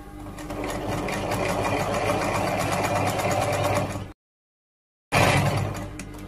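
A sewing machine stitches a men's robe right along the edge, a loud close continuous whirring that stops abruptly for a second of silence and then starts again.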